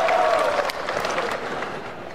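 A crowd at a Filipino rap battle claps and cheers in a dense, steady burst that fades slightly toward the end, with a voice faintly mixed in.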